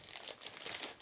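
A Ziploc plastic bag is opened and crinkled, giving a run of close, crisp crackles and rustles over about a second with no talking.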